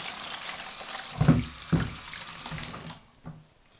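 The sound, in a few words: hot water from a Kelly kettle poured into a bucket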